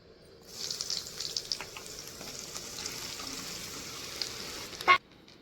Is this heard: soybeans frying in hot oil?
yes